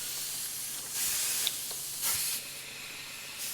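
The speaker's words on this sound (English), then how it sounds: "this literally hooks up to an air compressor" Short bursts of hissing air from an air compressor hose inflating a tire on a Rivian R1T, several separate puffs about a second apart, fairly faint against a quiet background.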